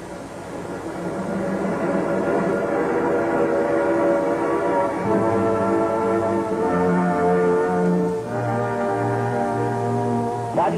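Passenger trains pulling into Tambaú station: a steady rolling rumble of rail cars, overlaid with sustained tonal horn or whistle notes that swell in the second half, heard from a moderate distance with no talking.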